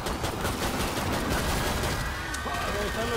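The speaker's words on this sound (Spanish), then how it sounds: "Ahí están los tiros." Rapid bursts of gunfire in the video game Killing Floor 2 crackle throughout, dense and continuous, with people talking over the shots.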